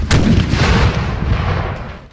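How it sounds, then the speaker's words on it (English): A single cannon fires in the battle game Napoleon: Total War 3, a sharp close blast followed by a rolling boom that fades over about two seconds. "Why are this cannon firing this way?"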